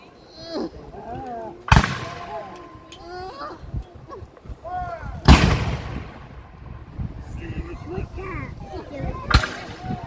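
Guns booming at a battle reenactment, three loud, sharp blasts spaced a few seconds apart, each with a lingering rumble, while children chatter and shout nearby between the shots.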